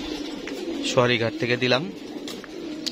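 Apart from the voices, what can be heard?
pigeons cooing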